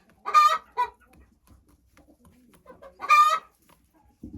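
Hens in a backyard coop let out two loud, close squawking clucks a few seconds apart, with faint rustling in the quiet between them.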